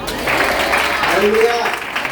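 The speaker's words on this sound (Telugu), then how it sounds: "గట్టిగా చప్పట్లు కొట్టు." A church congregation at a Sunday service bursts into loud, sustained clapping that lasts nearly two seconds, with a voice calling out over the applause partway through.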